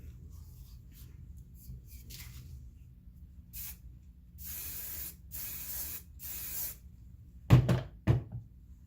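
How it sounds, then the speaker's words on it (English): Spray paint hisses onto a tumbler in several bursts of varying length, close and fairly loud, followed by two sharp knocks near the end. "I'm going to go ahead and try to respray it one more time"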